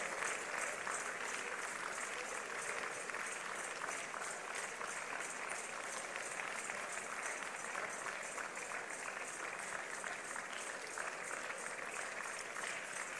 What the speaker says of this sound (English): Keep clapping till they get here.